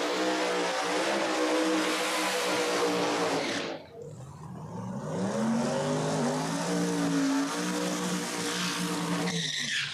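Drag race cars at Empire Dragway in a No Prep Kings event roar loudly down the strip, engines screaming with rising harmonics, a brief dip near four seconds before another pair launches and blasts away, tires squealing.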